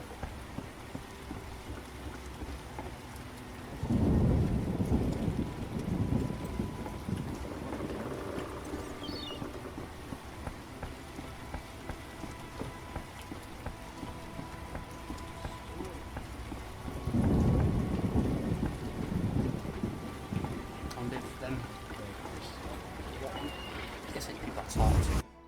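In the video game The Witcher, steady rain patters through a game scene as two long low rumbles of thunder roll in, each lasting several seconds, with a spoken voice over the storm.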